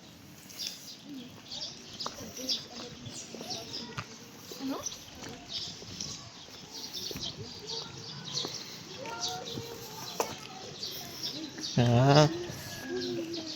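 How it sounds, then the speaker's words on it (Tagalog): Many birds call and coo in a rather noisy outdoor setting, with scattered chirps and coos repeating throughout, and a louder warbling call near the end. A few short spoken words come in between. "Daming ibon."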